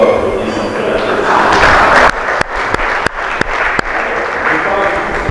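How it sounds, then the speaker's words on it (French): Audience applause at a gala evening, a loud crowd clapping that breaks off midway, followed by a few sharp isolated thumps and taps over lingering room noise and voices. "Si vous pouvez encore applaudir son père."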